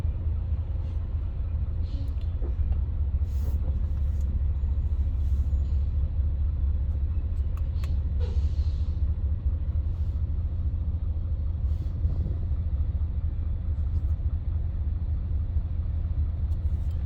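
Low, steady engine rumble from a car with a straight-pipe exhaust, valves closed, heard from inside the cabin, a constant deep drone with faint road noise and no talk.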